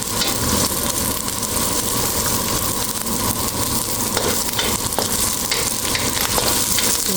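Lobster and spring onion sauté in a hot pan with a dense, loud, continuous sizzle and occasional clicks of a utensil. No voices.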